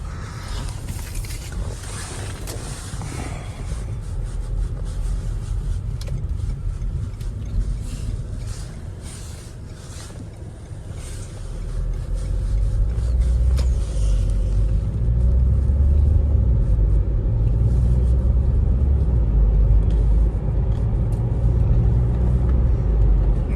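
A 2015 Renault Espace with a 1.6 diesel engine and automatic gearbox pulling away on a test drive, its low engine and road rumble growing steadier and louder in the cabin, with no voices heard.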